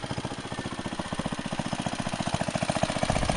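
A minibike's newly fitted small engine runs steadily with the belt off, a fast, even putter of pulses that grows slightly louder toward the end, heard close up with no talking.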